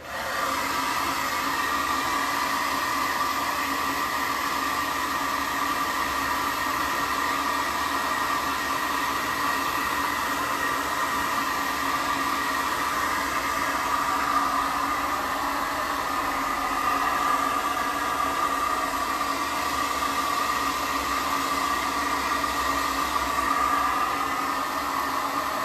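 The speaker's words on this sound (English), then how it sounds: "Alright, let's use some hair dryer a little bit here." A hair dryer blows continuously at close range, drying paint on a wood painting, a steady loud whooshing hum with no pauses.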